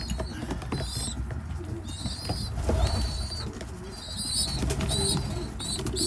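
Racing pigeons coo softly in a loft, with gentle repeated calls over a low rustling, creaking background and occasional higher chirps from young birds.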